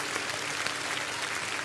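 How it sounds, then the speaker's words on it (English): A crowd cheering and clapping in a steady, dense roar of applause that stays loud and even from start to finish, with no voice rising above it. "Crowd goes wild."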